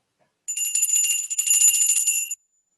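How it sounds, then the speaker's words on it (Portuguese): A single bright bell rings steadily for about two seconds with a clear shimmering tone, then stops abruptly, leaving silence. "O som do sino"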